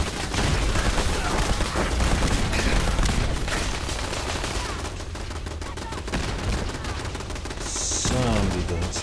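Dense, loud automatic turret fire rattles in Fallout 4, sustained bursts of rapid gunshots filling the whole stretch with no pauses.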